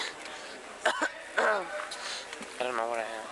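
A person coughs and clears their throat during a wrestling match between college wrestlers, a few short bursts close to the microphone, mixed in with people talking nearby.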